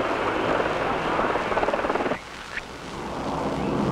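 A rescue helicopter hovers during an Air Force hoist recovery, circa 1977, its rotor and engine roar loud, steady and close, dipping briefly midway before building back up.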